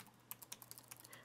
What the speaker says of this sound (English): So as you see, I'm typing.